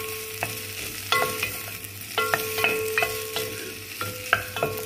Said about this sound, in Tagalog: Gisa lang natin yung chicken